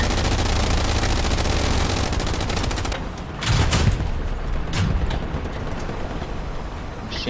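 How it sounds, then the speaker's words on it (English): Machine gun fire in Hell Let Loose rattles as rapid, continuous bursts under a heavy battlefield rumble, loud and fairly close, breaking off about midway before scattered single shots and booms follow. "Machine gun on our left"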